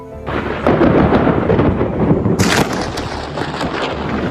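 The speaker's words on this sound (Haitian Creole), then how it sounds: "nous voyons bien un éclair qui frappe un bateau" Thunder from a lightning strike on a boat rumbles loud and close, a broad sustained roar with a sharper crack midway, rolling on without pause.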